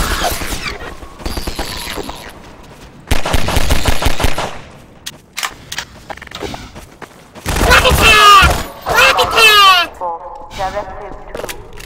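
Gunfire from the video game Half-Life 2, loud bursts of rapid shots in several clusters, mixed with other game sounds and a voice talking over parts of the action.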